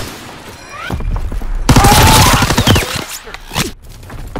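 Artillery battery in Call of Duty WWII fires a rolling fusillade of loud, close booms and cracks, dense for a couple of seconds then trailing into scattered blasts and whooshes.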